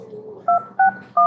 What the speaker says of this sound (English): Let me dial Chuck in first.